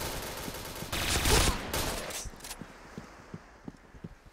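Gunfire in the online shooter game Point Blank, a dense burst of rapid shots followed by scattered single thumps and footsteps, fairly close and loud at first, then sparser.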